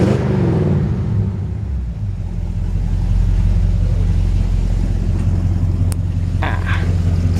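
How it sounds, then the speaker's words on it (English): A 1952 Chevy 3100 pickup truck idles close by with a deep, steady engine and exhaust rumble, loud and continuous, with a few faint clicks near the end. "Nice sounding truck exhaust."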